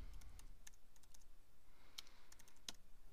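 Typing on a computer keyboard while entering words into a web layout editor, a steady run of quiet, close key clicks with a few sharper strokes.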